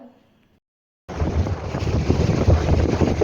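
Riding in a boat on open water, a brief quiet moment gives way to loud, continuous wind buffeting and rushing water noise close to the microphone, steady to the end.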